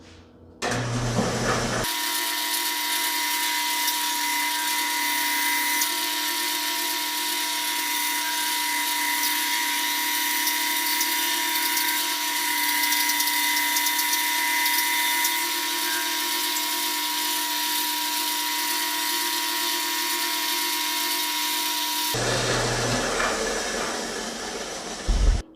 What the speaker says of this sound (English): we're going to use my mom's bandsaw and cut this thing out